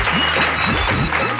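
An audience gives strong, steady applause to welcome a humour poet at a poetry gathering. The clapping is continuous and dense, close and loud, with no voices over it.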